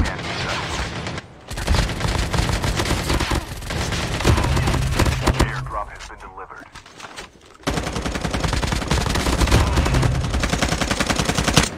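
Shotgun gunfire in a first-person shooting video game, heard as repeated bursts of shots layered with game sound effects and music, with a short quieter gap midway and short stretches of speech.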